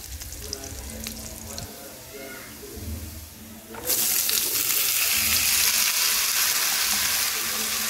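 A cooking pot on a gas-cylinder stove sits quiet with faint clatter until onions hit hot oil midway, bursting into a loud, bright, continuous sizzle that fills the rest of the moment.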